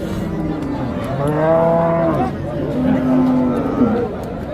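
A crossbreed bull at a busy cattle market lets out long, loud moos, one rising call followed by another, with crowd chatter in the background.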